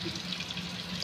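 Water poured from a glass into a pan of cooking taro for a gravy, a short steady splashing flow heard up close with no talk over it.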